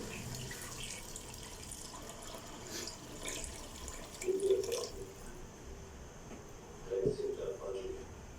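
About a liter of water is poured into a cooking pot of chana dal with chicken, making a faint, steady trickle with soft splashes against a quiet kitchen background.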